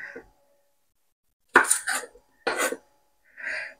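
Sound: lid put on a cooking pot

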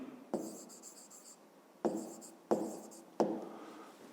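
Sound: writing on paper

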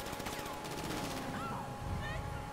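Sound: gunfire in Mafia video game

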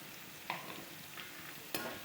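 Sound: carrot and curry leaves sautéing in a pan

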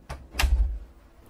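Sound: door being shut

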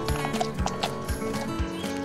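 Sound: pony hooves clip-clopping and neighing

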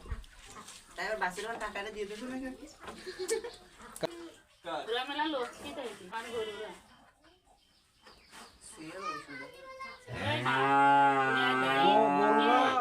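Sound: cow mooing

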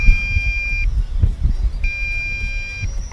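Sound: long low-battery beep from MJX X104G GPS drone

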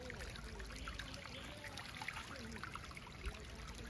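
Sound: water trickling in a stream

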